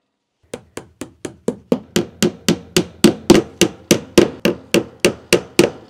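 A hammer drives cable clips into a wooden attic rafter in about nineteen sharp, evenly spaced blows, starting lighter and growing louder and firmer, close up with no talking.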